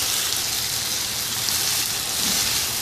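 Chicken karahi with spices fries in a pan with a steady, dense, rain-like sizzle that stays even and fairly loud throughout, with no voices.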